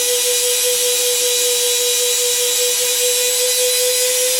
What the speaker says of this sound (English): I'm burnishing the spot where the patch is gonna go.